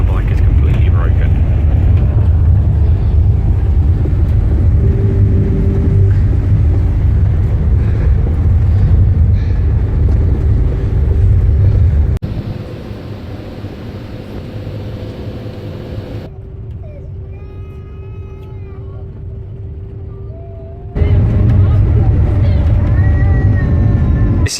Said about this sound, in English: I'm now in a cab on the way to the Miller factory.